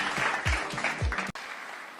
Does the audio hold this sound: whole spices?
no